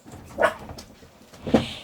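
A large male Yorkshire terrier weighing about 4.25 kg barks twice, close and loud, with short sharp yips about a second apart.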